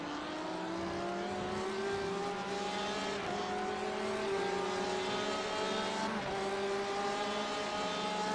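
Race cars in an IMSA Le Mans racing video game, engines droning and whining steadily at high revs with gear-shift pitch steps, a continuous layered roar of several cars at moderate level without talk.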